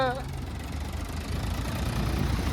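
A single-clutch tractor engine idles steadily with a low, chugging rumble throughout, close by, after a brief tonal sound at the start.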